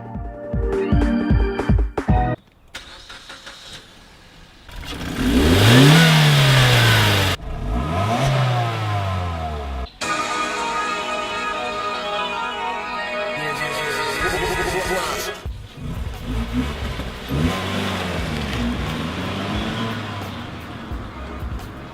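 A 2013 Suzuki Swift Sport engine revs and climbs through rising pitch sweeps as it accelerates, with gear changes and steady road noise, loud and close.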